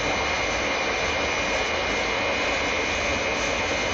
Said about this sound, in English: The airliner is still not responding, Colonel White.